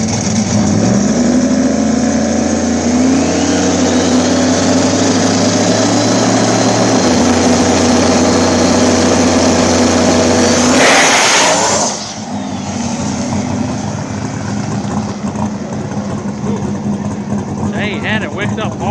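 A twin turbo Nova drag car on 28x10.5 gangster slick tires runs hard at a Shadyside drag strip, a loud sustained engine roar with turbo whine under an announcer's voice, then the engine sound drops off abruptly partway through.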